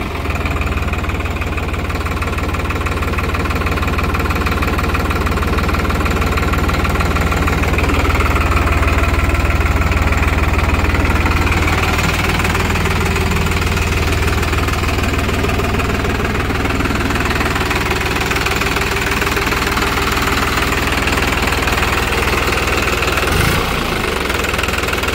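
A New Holland 3630 TX Super Plus 50 HP tractor diesel engine idles steadily with a deep, knocking rumble, close and loud, its tone rising slightly partway through.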